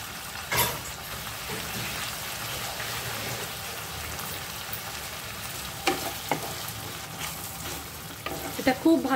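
Curry masala for a peas, paneer and potato ghugni frying with three teaspoons of sweet tomato sauce, a soft steady sizzle with occasional spatula knocks and stirring scrapes, growing busier toward the end.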